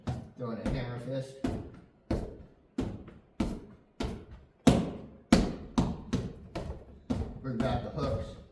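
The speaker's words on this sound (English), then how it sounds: "Throwing a hammer fist." Hammer fist punches from a horse stance striking a target, a series of sharp thuds in an irregular rhythm, about a dozen over several seconds, with a voice talking between some of them.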